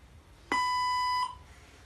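A single clean electronic beep from a language-translator robot, steady and tonal, lasting under a second and sounding alone against a quiet background.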